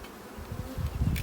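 Honey bees buzz over a brood frame with drones among them during a hive split, a close low hum swelling briefly and fairly faint overall.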